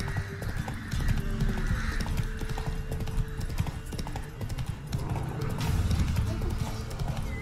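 Horse hooves clip-clop at a gallop in The Witcher 3: Wild Hunt, a steady, loud rhythmic beat of game hoofbeats running throughout, with a brief whinny and faint talk now and then.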